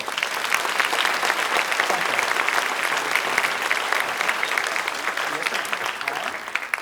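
Crowd at an annual membership banquet gives a loud, dense round of applause, steady sustained clapping close and full throughout, with faint voices underneath.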